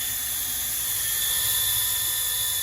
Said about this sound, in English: this is our drill pump, and it's sweet for doing this kind of stuff.